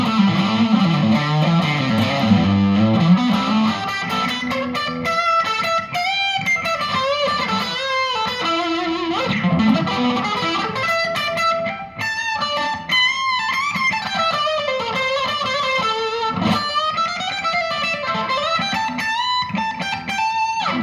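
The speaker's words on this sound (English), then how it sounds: "that is definitely a pretty good rock sound. It's coming from these pickups." Electric guitar played through the bridge pickup with heavy distortion in a rock tone, a steady, loud run of sustained notes and bends with no talking.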